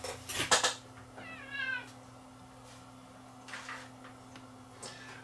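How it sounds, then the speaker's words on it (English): A Siamese cat meows nearby, one loud meow followed by a softer, wavering second call, then quiet indoor hum with a few faint rustles and bumps. "My Siamese cat has come to visit me."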